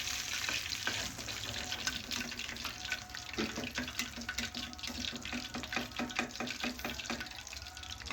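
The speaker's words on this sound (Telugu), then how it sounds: "మిగతా చికెన్ని కూడా సేమ్ ప్రాసెస్లో ఫ్రై చేసుకోండి." Pieces of marinated KFC-style chicken fry in hot oil, giving a steady, close sizzle with dense crackling and popping that runs throughout without any talking.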